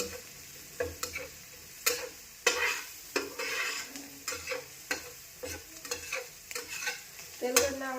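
Garlic-peanut chutney with salt and coriander being stirred into an oily frying pan, with irregular close scrapes and clinks of a spoon against the pan over a low, soft sizzle.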